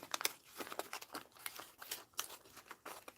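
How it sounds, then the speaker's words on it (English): Scissors snipping a strip off a package, a quick series of sharp crinkling snips and rustles of packaging close by, quiet and without talk. "Now we'll just cut a little strip here."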